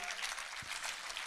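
An audience claps at a Hindi poetry recital by Kumar Vishwas, a soft, steady patter of many hands that sounds distant and fairly faint, with one small thump partway through.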